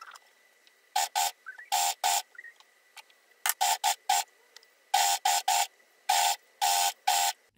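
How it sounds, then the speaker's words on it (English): An overlocker, its blade withdrawn, sews two layers of fabric for a mini skirt in short, sharp whirring bursts separated by near-silent pauses, a clear on-off rhythm close by. "I withdrew the blade of the overlocker and I sewed the two layers together."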